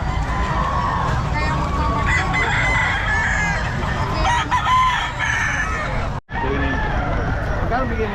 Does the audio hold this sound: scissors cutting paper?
no